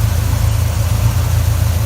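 A 1983 Chevy Silverado engine idles on a newly fitted exhaust, a loud, close, steady low rumble that stays even throughout with no voices.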